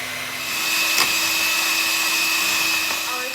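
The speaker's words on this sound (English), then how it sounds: "Now I'll use a handheld mixer and we're going to blend." A handheld electric mixer whirs steadily through pomegranate cake batter, a loud, even motor drone that swells slightly and holds for a few seconds without any voices.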